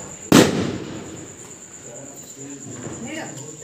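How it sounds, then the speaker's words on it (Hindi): Two firecrackers packed inside a steel glass for Diwali burst as one sharp, loud bang that rings and fades, while crickets chirp steadily in the background. "और उसके अंदर दो पटाखे रख दिए हैं।"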